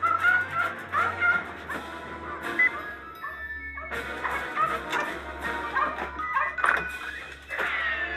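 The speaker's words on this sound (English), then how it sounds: "Damn dog." A dog yips, barks and whimpers repeatedly in short, high, excited bursts, fairly close and loud, over a steady background hum.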